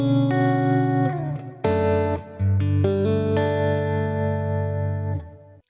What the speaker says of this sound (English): The next one is a modulated reverb.